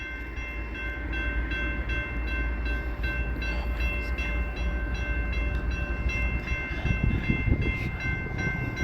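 A Canadian National freight train rolls past on a rainy day, a loud continuous rumble of wagons with a steady high horn-like tone running through it, close and unbroken.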